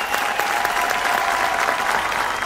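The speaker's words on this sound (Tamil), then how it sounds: "அவங்களுக்கு ஒரு பலத்தை கைத்தட்டு இருக்கிறோம்." Studio audience on a Sun TV program applauds a film crew, a dense, steady wash of many hands clapping at close range, continuous and even throughout with no talk over it.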